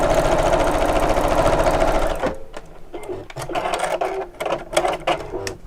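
A sewing machine stitches over a bag seam, a loud close mechanical whir for about two seconds, then stops, followed by scattered clicks and handling noises.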